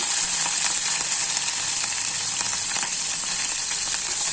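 Cumin, lentils and green chillies sizzle steadily in hot oil for Gongura Meal Maker curry, a dense, continuous frying hiss close up with faint crackles and no talking.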